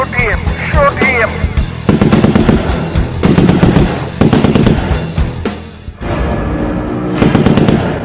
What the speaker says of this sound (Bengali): ওরা ডাকু রাক্ষসের গায়ে গুলি মেরেছে